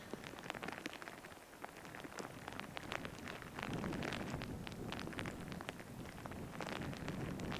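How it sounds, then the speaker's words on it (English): Heavy rain pours steadily on an outdoor golf course, a dense hiss of countless drops with occasional louder patters and light wind, no voices. "It's quite heavy now, isn't it, the rain?"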